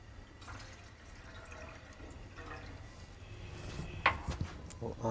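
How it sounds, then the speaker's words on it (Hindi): Water poured from a container into a pot of milk on a stove while making smoky almond tandoori tea, a quiet trickle and splash that builds to a brief louder pour near the end, without talk. "थोड़ा सा डालेंगे पानी,"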